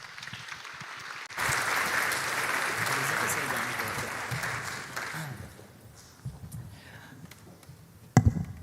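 An audience applauds at a hackathon closing ceremony for a demo team, a broad steady wash of clapping that swells in after a quiet start and carries for several seconds before tapering off into a lone thump.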